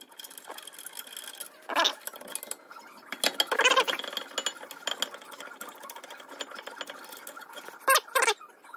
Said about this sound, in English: you can just grab your 15mm gear wrench and walk them out the rest of the way.